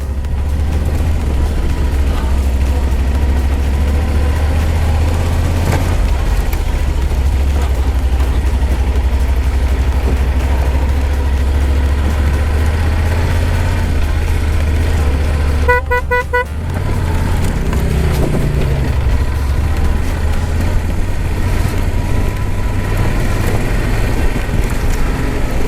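A Yamaha Super Tenere big adventure motorcycle on a quick desert lap, its engine a steady loud low drone throughout with a brief sharp disturbance midway, no talk.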